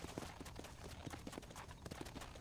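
Horse hooves clip-clopping at a steady trot while riding in Red Dead Redemption, a quick regular rhythm of soft thuds, faint and continuous with no talk over it.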